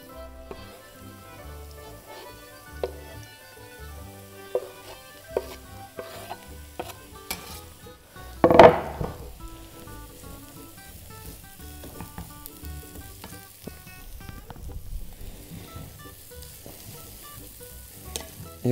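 Leek sautéing with onion in a pan sizzles steadily, with intermittent spoon clinks and stirring scrapes and one louder clatter midway, close up and without talk.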